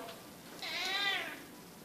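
A single clear cat meow rising and falling over roughly half a second, close and fairly loud, with a faint quiet background before and after.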